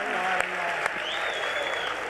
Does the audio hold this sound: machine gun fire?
no